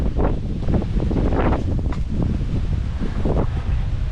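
Strong, steady wind buffets the microphone at a hilltop viewpoint overlooking a town in Thailand, with a loud continuous rumble and gusty swells and no speech.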